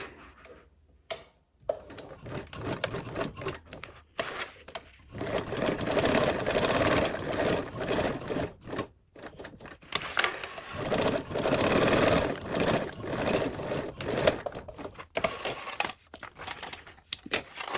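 A domestic sewing machine runs a 1/4 inch seam allowance along a fabric edge in several bursts of steady whirring stitching, close and clear, separated by short pauses.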